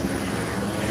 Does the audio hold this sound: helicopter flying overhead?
yes